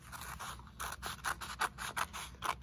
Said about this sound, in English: And then I'm also gonna cut on this end carefully,